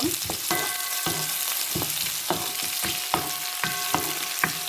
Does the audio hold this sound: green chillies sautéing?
yes